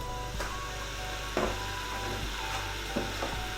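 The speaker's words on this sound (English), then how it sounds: "So into my big pot here, I am now going to add in my bacon." Bacon sizzles in olive oil in a large pot with a soft, continuous frying hiss. A few light clicks and stirring knocks sound close by.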